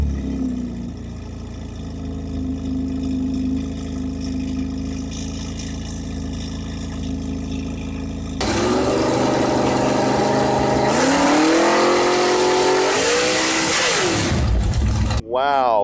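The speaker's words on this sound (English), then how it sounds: "That's a Z06, definitely a lot different sound than the Stingray for sure." A straight-piped Chevrolet Corvette C8 Z06 idles loudly up close, then breaks into a harsher, louder roar with rising and falling revs before cutting off abruptly.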